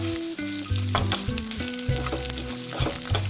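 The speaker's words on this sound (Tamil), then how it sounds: "இந்த சமயத்தில் நம்ம எடுத்து வச்சிருக்கிற வெள்ளை உளுந்தும் மிளகா வெத்தலையும் சேர்த்துக்கலாம் சேர்த்துட்டு நல்லா வறுத்துக்கலாம்" Urad dal and dried red chillies frying in hot oil for a curry leaves thuvaiyal, a steady close sizzle with scattered crackles and stirring scrapes, no voices.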